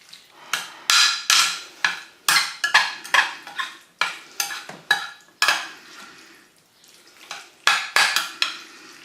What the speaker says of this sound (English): Give this a nice mix around now.